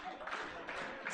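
Scattered clapping from a hospital awards ceremony audience, moderately faint and steady across the moment, with a murmur of crowd noise underneath.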